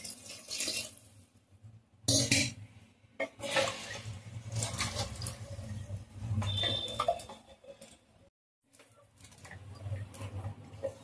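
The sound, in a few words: water poured into pulao for cooking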